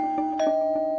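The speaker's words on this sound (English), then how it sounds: "the doorbell rang" Tonal ringing chime with steady sustained pitches and a couple of gentle strikes, clear and fairly loud.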